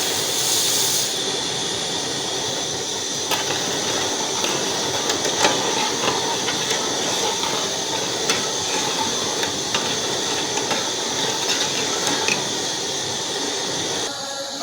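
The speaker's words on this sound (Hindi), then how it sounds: "अब इसमें उबाल आ चुका है" Sweetened liquid with cardamom comes to a boil for a vermicelli dessert, making a loud, steady roaring hiss with small bubbling knocks and bursts throughout.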